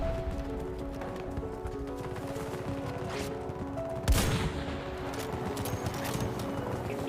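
An anti-materiel rifle fires once in a video game, one loud, sharp report cutting through a steady bed of galloping hoofbeats and battlefield din.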